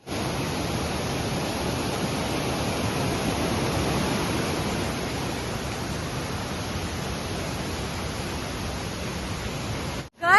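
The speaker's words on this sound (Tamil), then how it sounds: "இதுதான் அந்த ஃபால்ஸ் வியூ, நான் உங்களுக்கு காமிக்கிறேன்." A waterfall in Kerala roars with a dense, unbroken rush of falling water, loud and steady from start to finish with no voices, cutting off abruptly at the end.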